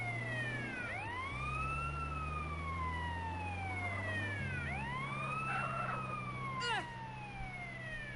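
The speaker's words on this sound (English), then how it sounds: "I'm just going to turn on the sirens" Wailing emergency vehicle siren in the game Grand Theft Auto: San Andreas, rising and falling in repeated sweeping cycles over a low engine drone, loud and close throughout.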